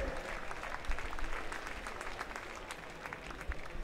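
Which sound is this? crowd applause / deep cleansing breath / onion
crowd applause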